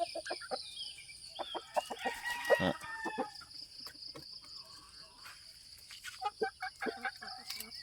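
Chickens clucking and a rooster crowing outdoors, with a steady chorus of insects buzzing in the background.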